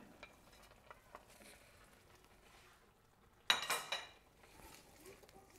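Dried chili and Szechuan pepper stirred into a cod fish soup in a pot, a loud burst of scraping and clinking midway amid faint sizzling, with quieter utensil taps before and after.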